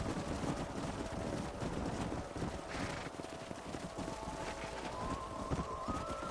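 Horses' hooves clip-clop at a run in Red Dead Redemption, a rapid, uneven patter over wind and ambient game noise, joined by a brief whinny.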